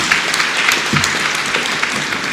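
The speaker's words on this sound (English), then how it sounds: "A round of applause will do." Audience applause at a small-business MSME exhibition event, a steady, dense wash of many hands clapping that fills the whole moment at a fairly loud level, with no voices over it.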